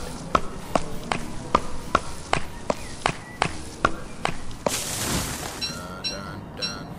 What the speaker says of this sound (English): we need to cut the trees down